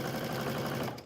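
A sewing machine stitching a quilt runs in a fast, even mechanical chatter of needle strokes, close and steady, then trails off at the end.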